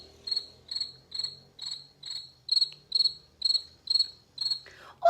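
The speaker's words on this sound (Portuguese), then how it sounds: "Olha o grilo." A cricket chirps on a farm, ten evenly spaced shrill pulses repeating in a steady rhythm, close and clear with no other sounds.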